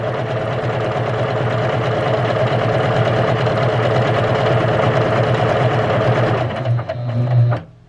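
A Juki HZL-K85 sewing machine runs at full speed with a loud, steady mechanical whir and rapid needle chatter, then slows and stops near the end.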